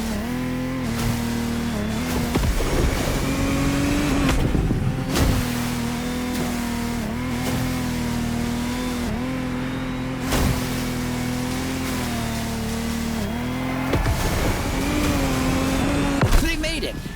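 Lamborghini Technomar speedboat engines in The Crew Motorsport drone and rev at a steady high pitch through a race, rising and surging loudly, with an announcer talking over the engine noise.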